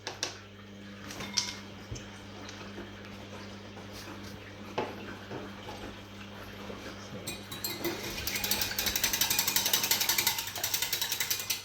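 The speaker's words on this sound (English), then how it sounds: "so we whisk that together until the egg is well beaten" Whisk beating an egg with vanilla essence in a bowl for chocolate chip muffins, a quiet clinking at first, then rapid, steady rattling strokes that grow louder toward the end, close by.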